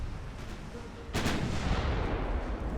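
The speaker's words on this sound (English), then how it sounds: "Torpedo detonation on the destroyer." Torpedo detonating on a destroyer in Ultimate Admiral: Dreadnoughts, a sudden heavy boom bursting out of low rumbling battle noise and rolling on in a dense, loud roar.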